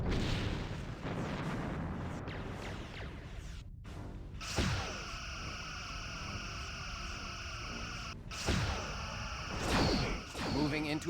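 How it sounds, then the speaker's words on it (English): Rear torpedoes launching in the starship combat game Star Trek Bridge Commander, a loud whooshing burst around four seconds in followed by sustained sci-fi weapon tones, with another sharp launch near eight seconds and a final swell at the end. "Lining up rear torpedo tubes."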